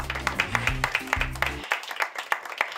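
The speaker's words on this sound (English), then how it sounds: "Round of applause" Audience at a fashion show gives a brief round of applause: irregular hand claps ring out over a deep, pulsing music bass, then thin to scattered individual claps once the music cuts off.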